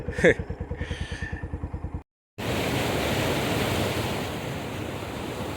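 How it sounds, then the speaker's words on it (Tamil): Water in a small stream running from an irrigation canal down to a river, a steady close rushing wash that follows a short burst of a voice. "வாய்க்கால்லேருந்து ஆற்றுக்கு தண்ணி போகிற ஒரு ஓடை தாங்க இது"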